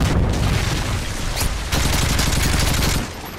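A Predator missile explodes in Call of Duty: Modern Warfare 3 during a Team Deathmatch match on the Village map, giving a loud, dense blast with rolling booms that rumble on for about three seconds before easing.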